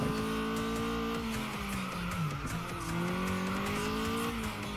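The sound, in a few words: car driving in a mountain pass racing video game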